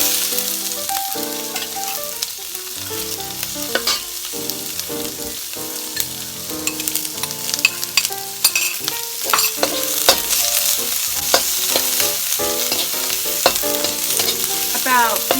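Onions fried briefly in a pan, a continuous bright sizzle with frequent stirring clatter close up, while music plays throughout.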